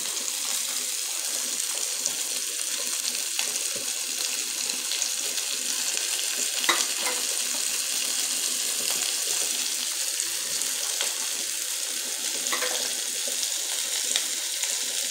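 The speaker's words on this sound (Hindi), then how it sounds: "सुंगटां तर भाजतना असो" Prawns frying in a pan give off a steady, fine hiss and crackle that runs evenly throughout, with a few sharper pops rising above it.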